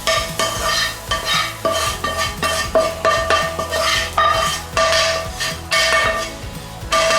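Dumpling filling with coriander roots fries in a hot pan, bright sizzling overlaid by rhythmic, clattering scrapes and knocks of a utensil stirring against the metal, loud and close.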